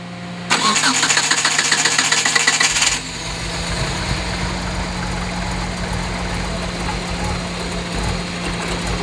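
A 1992 Hyundai Elantra with a swapped 4G63 engine and 1.8 cams cranks loudly under a hot restart, a steady rhythmic starter whir lasting a few seconds before dropping to a lower continuous mechanical hum.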